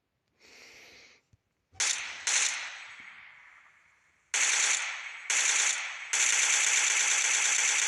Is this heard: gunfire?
yes